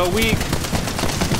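Mastiff shotgun blasts in a video game, a quick run of punchy shots close up, mixed under a player's excited talk.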